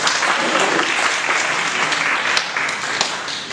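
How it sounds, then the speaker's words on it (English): An audience gives a steady round of applause, dense clapping filling the room at a loud, even level for several seconds before easing slightly. "Let's give him a round of applause."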